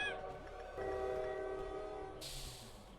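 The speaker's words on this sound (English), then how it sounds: "I forgot about the train." Train horn in the Lobotomy Corporation video game, a sustained tonal blast holding steady for a couple of seconds over rumbling rail noise, followed by a hissing burst as it fades.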